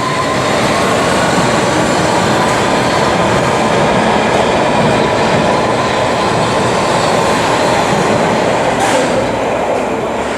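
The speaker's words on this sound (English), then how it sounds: "This train is going to Uxbridge." A London Underground Metropolitan line train bound for Uxbridge roars steadily and loudly from close by, with continuous rumbling wheel noise on the rails and a faint squeal near the end.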